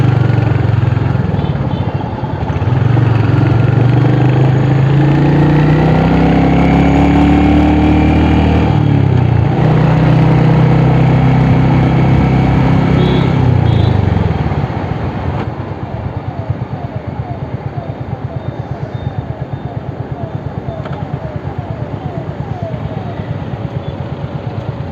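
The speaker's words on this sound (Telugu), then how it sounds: "అండ్ మనకి ఎంత స్పీడ్గా అయితే పికప్ అవుతుందో అంత స్పీడ్గానే మనకి స్లో డౌన్ కూడా అవుతుంది బైక్." Royal Enfield Hunter 350 motorcycle, a 350 cc bike, riding along with a steady engine drone that holds loud for about fifteen seconds, then eases off into a lighter, pulsing idle-like rumble as it slows.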